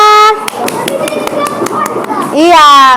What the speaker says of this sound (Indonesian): Kita kasih tepuk tangan dulu untuk teman-teman kita semua.